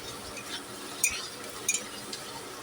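Spice paste is sautéed in oil for a bitter gourd, potato and poppy seed dish with onion, giving a low steady sizzle. Two sharp metallic clinks of a utensil against the pan cut through it, followed by a softer tap.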